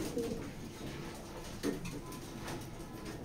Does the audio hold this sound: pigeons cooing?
yes